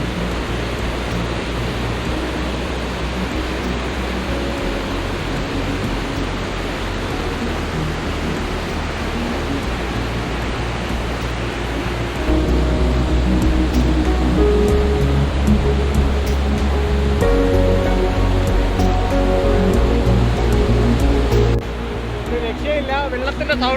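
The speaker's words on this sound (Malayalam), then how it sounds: "വെള്ളത്തിൻ്റെ സൗണ്ട് കാരണം പറയുന്നത് ക്ലിയർ ആവുന്നുണ്ടോന്ന് പോലും അറിയാൻ പറ്റുന്നില്ല." Water rushing loudly at Kanyarkayam waterfall, a dense, continuous roar close by that swells louder partway through and drowns out a faint voice.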